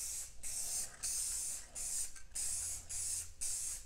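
Short bursts of aerosol spray paint hissing in quick succession, each lasting about half a second with brief pauses between, close and fairly loud.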